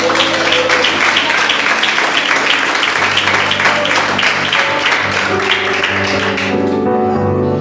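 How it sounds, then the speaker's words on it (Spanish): Church congregation applauding vigorously during a sermon, a loud sustained wash of many hands clapping with rhythmic pulses, continuing steadily before tapering toward the end. "Vamos, si le vas a aplaudir, apláudele bien."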